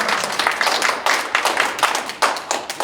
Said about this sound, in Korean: 큰 박수가 나옵니다.